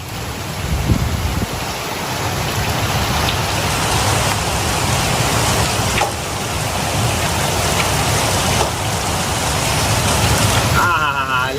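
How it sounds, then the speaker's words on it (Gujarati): Heavy rain pours down during a windstorm in Gujarat, with hail falling, a dense loud roar of drops on surfaces that stays steady throughout, with occasional sharper knocks. "વરસાદ પડે છે ભાઈ ભાઈ."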